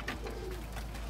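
Pigeons cooing softly in a loft holding about thirty birds, a low murmuring coo running steadily through the short stretch with no one talking.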